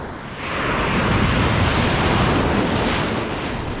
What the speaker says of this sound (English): You don't want to constantly be out here fighting the waves breaking.